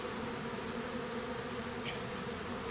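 Bees drone steadily around a hive box in an outdoor bee yard as a newly hived swarm settles in, a continuous close buzz at moderate level with no pauses.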